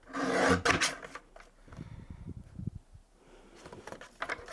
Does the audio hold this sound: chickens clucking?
no